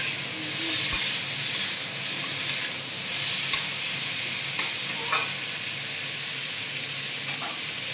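Vegetables sizzling in hot oil in a pan in a Bengali home kitchen, a steady bright hiss broken by several sharp scrapes and taps of a stirring spoon against the pan, close and alone with no talk.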